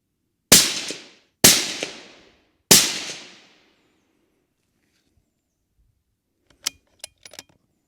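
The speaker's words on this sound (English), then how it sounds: "So we're going to shoot for the top left target, top left bullseye." An Accuracy International rifle with a Proof Research barrel, converted to 6mm Creedmoor, fires three loud, sharp shots spaced about a second apart, each with a short decaying tail. Faint metallic clicks and clinks of the bolt follow after a silent gap.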